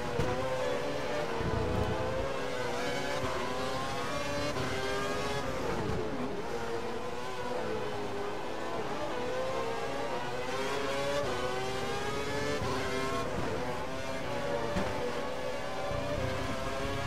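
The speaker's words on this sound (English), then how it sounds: "Full revs and we're keeping up." A Toro Rosso Formula 1 car in the F1 2012 racing game at the Hungary circuit screams at full revs, a loud sustained high-pitched engine whine with shifting tones and brief dips, heard close and continuous without talk.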